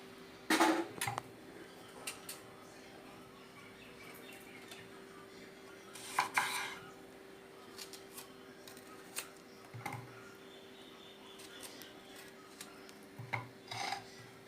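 Onions cut with a knife on a board, heard as a few sharp, close chopping and scraping knocks scattered across a quiet stretch with a faint steady hum beneath.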